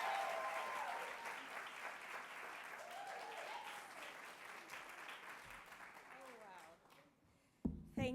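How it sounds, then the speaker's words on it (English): Warm audience applause greets a guest coming up at a fireside chat event, a dense steady clapping that fades toward the end, with voices and a brief louder thump at the close. "Let's give her a warm round of applause as she comes up."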